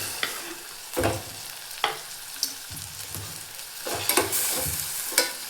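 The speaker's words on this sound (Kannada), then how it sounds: "ಈಗ ಇದಕ್ಕೆ ಕಟ್ ಮಾಡಿ ಇಟ್ಕೊಂಡಿರೋಂಥ ಟೊಮೆಟೊ ಹಾಕ್ಕೊಳತ್ತೀನಿ." Chopped tomatoes tipped into a hot pan and stirred for a North Karnataka style green gram palya, with repeated scraping stirs over a steady low sizzle, close and moderately loud, no talking.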